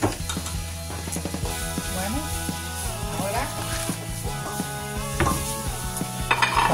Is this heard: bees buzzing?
no